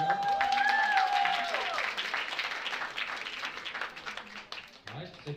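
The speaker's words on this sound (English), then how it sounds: "So round of applause again for the girl." Audience applause for a female powerlifter at a powerlifting meet in the UAE, a dense wash of clapping that swells early and thins toward the end, with faint voices and a brief tonal squeal mixed in.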